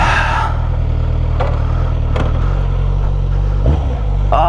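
A 2024 Suzuki GSX-S1000 motorcycle idling with a slip-on exhaust, a loud steady low rumble close by, with a few brief clicks and knocks over it.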